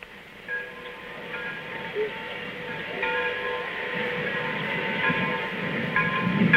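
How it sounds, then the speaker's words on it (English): A refugee train from Lo Wu, Hong Kong, heading out of China rumbles along continuously, a steady clattering roar with faint tonal whines, growing slightly louder toward the end. "This train from Lo Wu is the chief escape route out of Red China."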